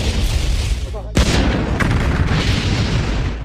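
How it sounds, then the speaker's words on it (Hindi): Explosion sound effect for the Columbia space shuttle disaster: a sudden loud boom about a second in, rising out of a dense, continuous rumbling roar that carries on to the end. "कोलंबिया स्पेस शटल में एक धमाका हो गया है।"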